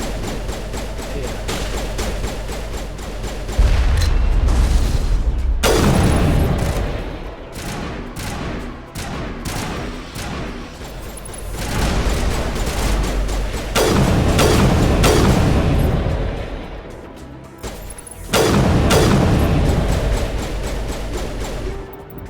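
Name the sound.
artillery explosions in Mass Effect video game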